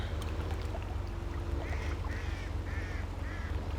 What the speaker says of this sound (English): Kind of like the ducks. The duck noise, it's pretty cool.